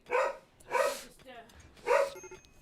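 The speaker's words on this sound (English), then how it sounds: "Is he just in the hallway barking?" A small, nervous dog barks in a hallway during a RimWorld session, three sharp bursts spaced roughly half a second apart, fairly close and clear, with no talking over them.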